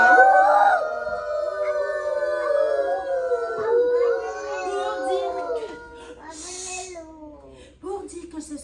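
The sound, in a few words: voice imitating a wolf howl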